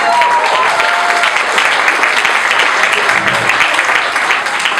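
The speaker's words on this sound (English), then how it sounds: "A round of applause for that, I guess." Wedding guests break into applause during a best man speech, a steady patter of clapping from a room full of people with a few voices mixed in.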